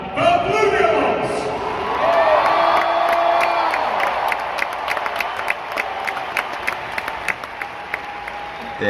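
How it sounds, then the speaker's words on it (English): Large stadium crowd at a drum corps championship roars with cheering and whoops, then settles into sustained applause with scattered claps and shouts, loud and dense throughout as the Blue Devils from Concord, California take the field. "always a lot of applause from this group"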